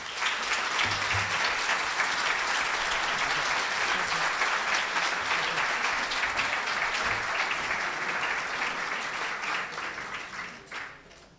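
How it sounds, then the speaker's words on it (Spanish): Sustained audience applause in a lecture hall welcoming speaker Matías De Stefano, broad even clapping from a large crowd that holds steady and then tapers off at the end. "Le ruego un fuerte aplauso para Matías Di Stefano"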